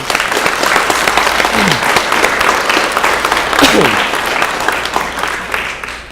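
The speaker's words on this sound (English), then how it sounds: "let's give them a round of applause also" Sustained audience applause at a school student council recognition breakfast honoring teachers, dense steady clapping from a room full of people lasting several seconds, with faint voices mixed in.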